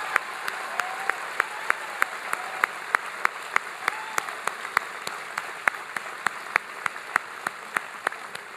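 Applause at a health care town hall in Green Bay, a sustained bed of crowd clapping with steady, prominent nearby claps keeping a regular rhythm throughout.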